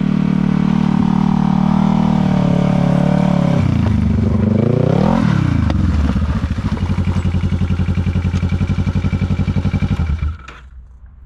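A motorcycle engine runs loud and close, droning steadily, then dips and climbs in pitch as throttle is added, building to a rapid pulsing rev before cutting off abruptly near the end.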